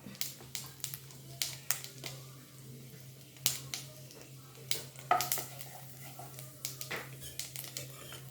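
Cumin seeds dropped into hot coconut oil crackle and pop in a quiet pan, with scattered sharp snaps and small bursts over a faint, low sizzle.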